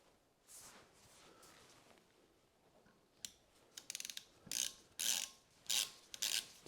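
A 10mm Allen bolt on a Mercedes W126 front hub is turned by hand, giving quiet rubbing at first, then a series of close, sharp ratcheting clicks in short bursts.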